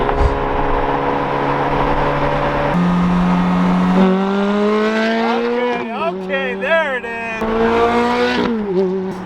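A Ferrari F430 engine revs and accelerates loudly, its pitch climbing through several gear changes, with brief talk over it.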